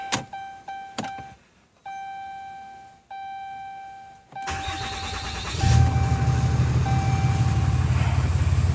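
A 2012 pickup with a 6.7 liter Cummins diesel gives a few dash chimes and a steady warning tone, then cranks and catches, settling into a loud, steady diesel idle up close.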